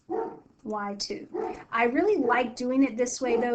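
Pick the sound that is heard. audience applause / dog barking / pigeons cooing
dog barking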